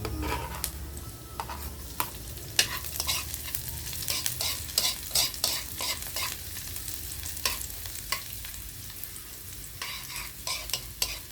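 Garlic sizzles and crackles loudly in a pan, with frequent sharp pops and the scrape of stirring recurring throughout, close and without any voices.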